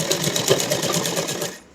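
A sewing machine stitches a salwar seam along the edge of a pleated panel, a fast, steady rattling run of needle strokes close by that slows and stops at the end.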